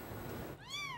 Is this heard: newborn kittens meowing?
yes